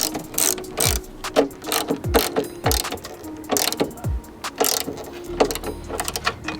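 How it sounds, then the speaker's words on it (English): Ratchet wrench with 15mm and 17mm sockets tightening two strut brace bolts on a BMW F30, a rapid run of sharp mechanical clicking in repeated bursts, close and fairly loud with no talking. "we're going to go ahead and use a 15mm and a 17mm to tighten down the 2 bolts"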